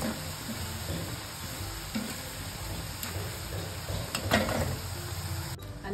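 Cheese shankarpali fry in hot oil over a high flame with a soft, steady sizzle and bubbling. Occasional light clinks and stirring taps sound close but faint, with no talk.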